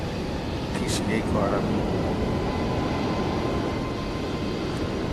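Steady low roar of jet engines from airplanes taxiing around a busy airport ramp, a continuous broad rumble with a brief whine, under someone talking.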